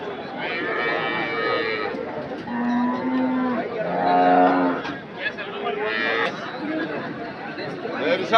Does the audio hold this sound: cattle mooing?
yes